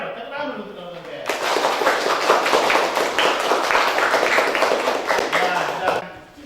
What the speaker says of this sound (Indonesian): Tepuk tangan dulu untuk kelompok MPR.